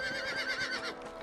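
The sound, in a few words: horse whinnying in the video game Red Dead Redemption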